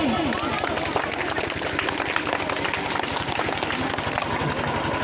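Audience applause at a school program, a dense steady clapping from a crowd that carries on without a break throughout.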